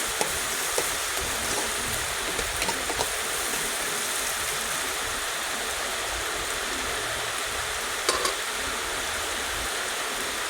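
Onions frying in a pan in a simple home kitchen, a steady dense sizzle that holds evenly for the whole stretch, with a few faint clicks and no talk over it.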